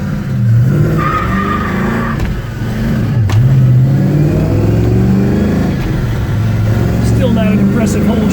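A black 1967 Pontiac GTO with an automatic transmission pulls away from a launch, its engine droning loud and close throughout with a rising pitch, and a voice talks briefly partway through.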